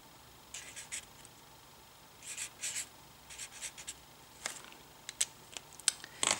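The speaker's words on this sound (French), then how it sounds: "Et j'écris les prénoms des mariés." Pen or marker writing names onto a grey-and-gold wedding invitation card, heard as quiet intermittent scratchy strokes in short bursts, close and soft with no talking.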